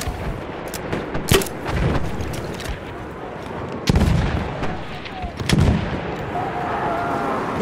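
Heavy gunfire and machine gun bursts in a First World War style shooter game, sharp loud cracks and booming reports scattered over a rumbling battlefield din, with faint shouted voices mixed in.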